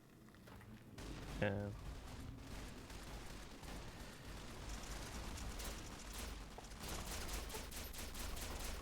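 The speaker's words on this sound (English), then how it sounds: "An insane amount of machine gun fires getting shot at me." Machine gun fire in Fallout New Vegas comes as a fairly faint, dense, continuous crackle of rapid automatic shots that persists throughout beneath a steady game soundscape.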